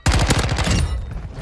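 Rapid close automatic fire from a Chimera assault rifle in Modern Warfare 2, a tight burst of evenly spaced loud shots lasting under a second, then a fading echoing tail.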